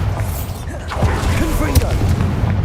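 Bombarda explosion spells booming in Hogwarts Legacy, with dull blasts and crackling debris over a steady bed of game noise and music, continuous through the short stretch of combat.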